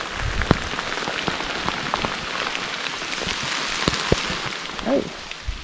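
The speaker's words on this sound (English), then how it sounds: "So heavy rain has descended." Heavy rain pouring steadily on a river trail, dense hiss of drops with sharp close patters striking nearby surfaces, loud and continuous with no talking.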